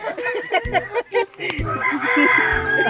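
Chickens cluck and a rooster crows close by in quick, repeated calls, with a few short human voices mixed in around them.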